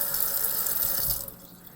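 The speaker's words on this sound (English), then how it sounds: "You just run water through them." Tap water running steadily through sprouting mung beans in a rinsing container, a loud, close rushing stream that fades as the flow is cut near the end, with no speech.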